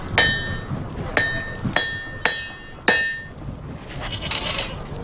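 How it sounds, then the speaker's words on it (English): A hammer rings against metal five times at a steady pace, each strike bright and bell-like with a lingering tone, followed by a faint clink. "With a big hammer."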